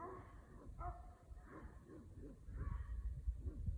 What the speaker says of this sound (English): The dogs are responding.